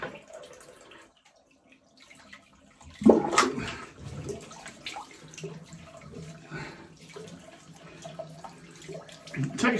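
Running water splashes from a tap while a face is rinsed after a shave with a Merkur razor and juniper soap, a steady close gush with intermittent splashing, following a brief quiet moment.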